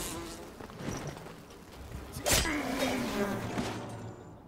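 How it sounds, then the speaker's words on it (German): Bees swarming and attacking in the game Enshrouded, a thin, wavering insect buzz that drones on with a brief sharp hit midway and a gliding whine after it, fairly close. "Jetzt werde ich auch noch von Bienen angegriffen."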